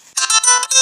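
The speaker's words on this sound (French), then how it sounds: "Oh, tiens, encore un message sur téléphone" A phone's message notification tone, a short bright melodic chime of several quick rising notes, loud and close, playing alone.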